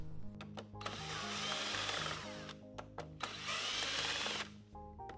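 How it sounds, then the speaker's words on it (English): A power tool spins a 7mm socket to loosen bolts on multi-plugs at a fuse block while a vehicle powertrain is removed, giving two long loud whirring bursts with short clicks and taps between them. "Use a 7mm socket to loosen the 5 multi-plugs."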